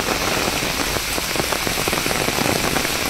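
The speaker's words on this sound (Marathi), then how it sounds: "पाऊस लईच बेकार आले." Heavy rain falling outdoors on a wet landscape with mud crabs, a loud continuous roar of downpour with dense spattering of drops on surfaces nearby.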